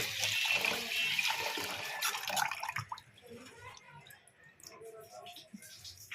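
Water splashes and runs while ingredients for chitoi pitha are washed thoroughly by hand, a busy splashing burst that thins into scattered drips and trickles, with a voice talking over it.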